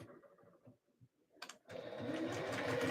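A sewing machine stitches a skort seam, starting with a few quiet stops and starts, then running steadily and close up after a short pause, with forward and back stitching.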